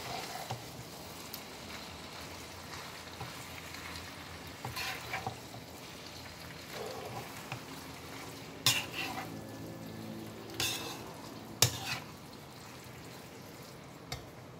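White sauce pasta is stirred in a pan, with a soft continuous scraping and bubbling sizzle, broken by occasional clinks of a utensil against the pan, heard close and fairly quiet.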